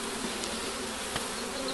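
Honeybee swarm buzzing steadily and close, a dense continuous hum of many wings with faint tonal bands, holding at an even level for the whole moment without any voices.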